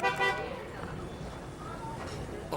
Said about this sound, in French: Qu'est-ce que c'est que ce klaxon